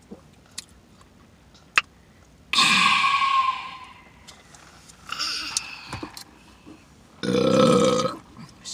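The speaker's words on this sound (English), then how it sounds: "Excuse me. I can burp." Three loud, drawn-out burps come after a McDonald's meal with a Coke, each a few seconds long and well separated, with quiet smacking and small clicks between them and no talk.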